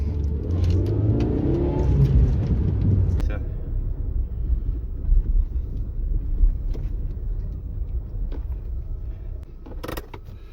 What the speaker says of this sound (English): As you can see, it does pick up pretty well for a 1 litre.